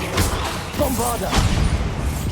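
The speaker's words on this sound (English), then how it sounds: "Bombarda!" A Bombarda spell goes off in Hogwarts Legacy, giving a heavy, rumbling boom with thuds and scattered debris, loud and close, while game voices speak over it.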